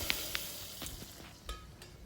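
Golden-brown fried garlic tempering crackles and sizzles faintly as it is poured into Sindhi urad dal, with a few sharp pops over a soft steady hiss.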